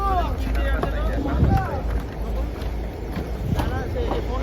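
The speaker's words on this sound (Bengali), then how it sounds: "কলকাতা লঞ্চ চেপেছি, ওইটা পুরো লঞ্চ মতো," A large open passenger boat on a river heading to Nabadwip gives a steady engine rumble and wind buffeting, while people talk nearby over the noise.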